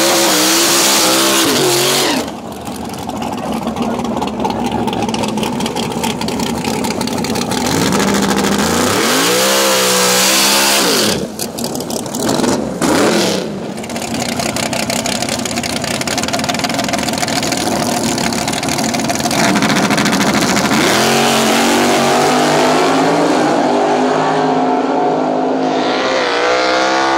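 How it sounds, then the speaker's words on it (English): Twin-turbo LS-powered Mustang race car at a drag racing event, a loud engine roaring and revving with rising and falling pitch sweeps, brief dips, and steady idling near the end, close by. "Ryan White, that twin turbo LS Mustang"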